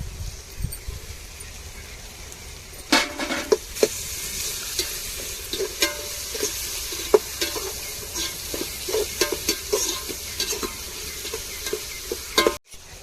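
Ginger and garlic fry in a pan while a spoon stirs them, a steady sizzle laced with repeated scraping and clinks against the pan, close up and without talk; a sharp knock lands near the end.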